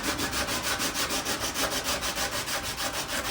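Rhythmic back-and-forth scraping of a sandpaper strip wrapped on a small wood block, hand sanding a fender flare; steady close strokes at about four or five per second, alone with no talk.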